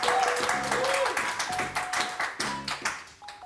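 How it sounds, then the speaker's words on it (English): A classroom audience claps for students, a burst of quick, close hand claps that thins out toward the end, with a voice talking over it. "Round of applause for our students, please."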